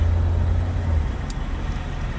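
Car traffic on a road heard from inside a moving vehicle, with a steady low engine and road rumble that is loud and continuous, easing slightly after the first second.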